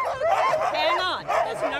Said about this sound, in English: the dogs were excited too, which meant they were ready to book it